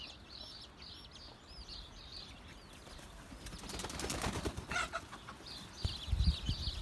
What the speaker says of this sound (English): those big hens will peck at them